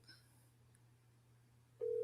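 A telephone handset on a call back gives a short faint beep, then a steady loud electronic tone cuts in near the end over a quiet line hum.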